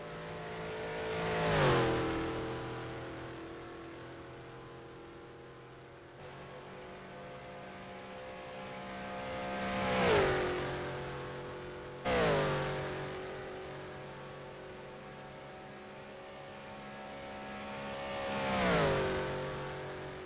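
Race cars on the Isle of Man time trial road course pass by one after another, each approaching with a rising whine and fading away in a clear Doppler sweep, three distinct passes against quiet background.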